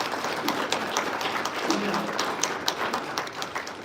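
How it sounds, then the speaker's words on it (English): An audience applauding at a parish talk on homelessness, a short burst of dense, steady clapping from a room of people throughout, with a voice heard briefly. "Round of applause, thank you."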